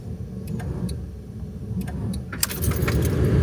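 Keys jangle in the ignition of a car whose engine fails to start, with faint clicks and a low rumble building but no catch, heard close inside the vehicle.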